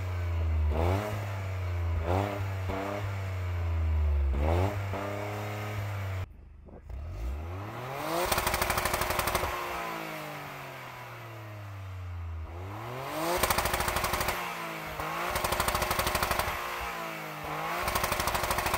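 A 2023 Toyota GR Corolla Circuit Edition engine, traction control off, revs hard through its exhaust in repeated rising and falling bursts, loud and close, with a brief pause and crackles between pulls.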